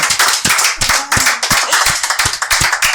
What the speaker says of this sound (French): Applaudissez pour Madame Damaris.